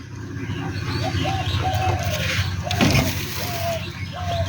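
Pigeons cooing inside a pigeon house on a chicken farm, a string of short, soft, repeated coos close by, with background rustle and a brief louder scuffle midway.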